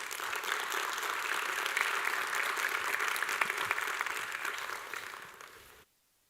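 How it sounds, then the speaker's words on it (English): Sustained applause from a conference audience in an auditorium at a health-sector expo, steady and fairly dense for about six seconds before cutting off abruptly, with no talking over it. "Please give a round of applause for our panel."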